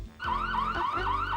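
A loud electronic ambulance siren wails from inside a bag in repeating rising-falling sweeps, steady and close, after a brief quiet start.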